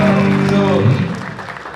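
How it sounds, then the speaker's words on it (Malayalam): Applause from wedding reception guests during a live music performance, a steady wash of clapping that fades toward the end, with sustained musical tones underneath. "നല്ലൊരു ക്ലാപ്പ് കൊടുത്തേ"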